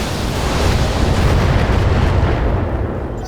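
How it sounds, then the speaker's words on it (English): Mech weapons fire at a Bulldog tank in the BattleTech video game: a loud, sustained roar of explosive booms and heavy artillery-like blasts, steady throughout and fading slightly at the end. "Let's take out the Bulldog. Locking in all weapons."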